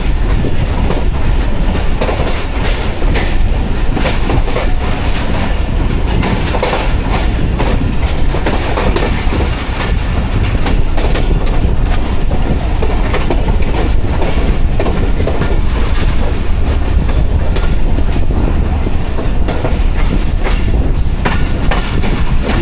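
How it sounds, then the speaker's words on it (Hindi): A freight container train led by a GU40 locomotive rolls past, a loud, continuous rumble with rapid clattering of wheels over rail joints for over twenty seconds and no talk. "GU40 लीड कर रहा है जी फ्रेट कंटेनर ट्रेन को।"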